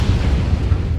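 Loud, dense rumbling explosions fill a video game artillery strike, a continuous heavy low boom with no gaps over about a second.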